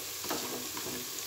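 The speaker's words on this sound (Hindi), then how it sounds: "प्याज, अदरक, लहसुन और हमारा खुश्क धनिया जो हमने डाला था वो अच्छी तरह भून चुका है" Onion, ginger, garlic and dried coriander frying in a pan for a Punjabi dhaba-style aloo baingan, giving a steady soft sizzle with light stirring, close and alone without talk.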